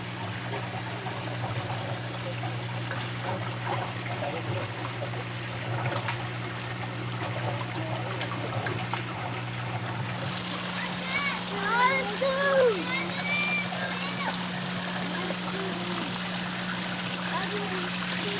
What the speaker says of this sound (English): the drains from the grow beds are draining into the gutter and then back to the fish tank, and the falling water helps aerate the water